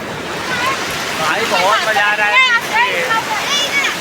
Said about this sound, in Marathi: बघा लाटा कशा येत आहेत